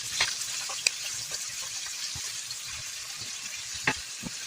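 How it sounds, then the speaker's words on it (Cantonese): Large shrimp pan-frying in hot oil in a wok with thin ginger slices and melted rock sugar, giving a steady close sizzle with a few sharp pops and crackles throughout. "400g 大蝦， 兩面煎至變色，"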